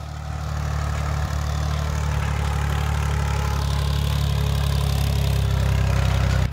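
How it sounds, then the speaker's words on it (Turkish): Small motor cultivator with rear tines leveling soil in a nectarine orchard, a steady close engine drone with a low throbbing hum that holds evenly throughout and rises slightly toward the end. "kültivatör adını vermiş olduğumuz motorun arkasına takılan dişlilerle beraber toprağımızın üzerini güzelce düzleştiriyoruz"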